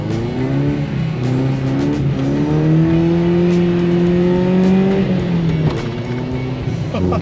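A Nissan pickup truck engine with over 260,000 miles revs loudly up close, its deep rumble rising and falling in pitch over several seconds.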